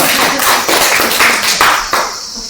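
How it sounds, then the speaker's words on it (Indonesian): A group claps in applause during a teaching session, a short, dense burst of hand claps that stays loud and close throughout. "ibu kita tepuk tangan"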